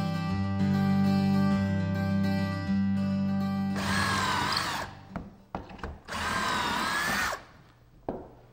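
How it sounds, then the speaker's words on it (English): Two-step pocket hole drill bit boring into wood for trim carpentry joinery: a steady motor hum first, then two loud grinding bursts of bit cutting the workpiece, separated by a short pause. "I made that hole using a really special drill bit. It's a two-step drill bit."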